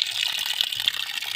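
Clean, clear water rushes steadily over rocks, a continuous bright hiss and gurgle heard close and alone with no talk.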